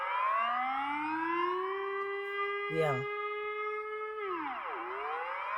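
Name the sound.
emergency alert system alarm sirens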